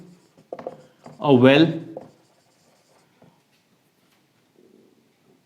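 Chalk or marker writing on a classroom board during a maths lesson, a short scratchy stroke heard near a teacher's brief speech, followed by quiet.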